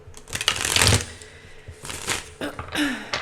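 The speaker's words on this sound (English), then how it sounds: "you've seen me just now shuffle the deck how many times" Cards are shuffled in quick riffling bursts, close up, with short pauses between shuffles and a brief throat noise.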